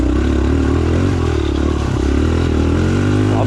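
A Suzuki DR-Z 125 motorcycle ridden on a rough, muddy track, its small engine droning loud and steady at high revs with clattering from the bike, heard close throughout.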